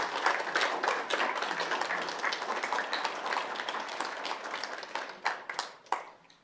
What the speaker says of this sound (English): if we can keep the applause to a minimum, I'd appreciate that